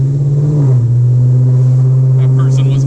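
A cammed Dodge Charger R/T running an E85 tune drives in stop-and-go traffic, its engine droning loud and steady with a slight dip in pitch. Voices are heard faintly over the engine.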